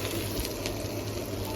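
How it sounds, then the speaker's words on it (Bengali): Small lentil fritters (bora) frying in oil, a dense, continuous close-up sizzle and crackle with no talking. "একটু করে বড়া ভাজা হচ্ছে।"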